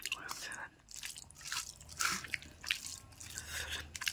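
Someone eating a home-cooked vegetable curry of papaya and potato, with close, soft chewing and wet mouth sounds in short bursts, broken by brief pauses.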